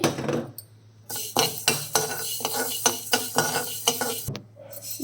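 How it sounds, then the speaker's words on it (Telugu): Fenugreek seeds and whole spices fry in a kadai as a spoon scrapes and clatters against the metal in quick, repeated strokes over a light sizzle, close and without speech. "కడాయి పెట్టేసుకొని అన్నీ ఫ్రై చేసుకుంటాను మసాలాలు మెంతులు ఫ్రై చేసుకుంటానండి"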